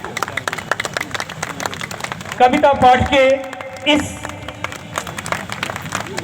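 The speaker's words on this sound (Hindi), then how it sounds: "अनमोल रत्न को स्वागत करने के लिए तालियां कम पड़ रही हैं" An audience at a Hindi comic poetry gathering claps steadily to welcome a poet on stage, a moderate patter of applause running throughout while someone speaks over it.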